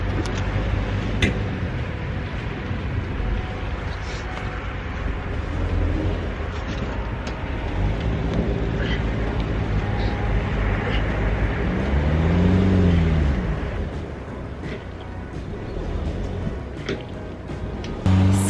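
A car bogged down in mud revs its engine while its wheels spin, a droning motor rising and falling with a stronger surge about two-thirds through, loud and close, with occasional ticking.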